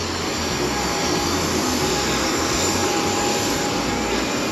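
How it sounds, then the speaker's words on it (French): A passenger airplane's engines roar steadily during flight, a dense, continuous broadband drone heard from inside the cabin, loud and unchanging throughout. "On prend l'avion."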